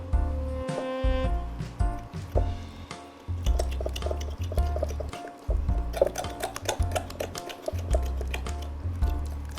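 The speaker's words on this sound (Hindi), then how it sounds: "तो ये हम इसमें पानी डाल लेते हैं और बिल्कुल गाढ़ा सा एक बैटर बना लेंगे।" Water poured into millet flour and mixed into a thick batter, with close wet squelching, dripping and a few light clinks of a utensil against the bowl.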